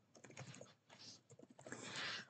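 Fast typing of code on a computer keyboard, a quiet, close run of uneven clicky keystrokes with short pauses and no talking.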